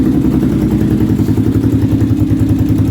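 A single-cylinder Honda 400EX ATV engine idles steadily up close, with a deep, loping low-end rumble and light mechanical clatter throughout.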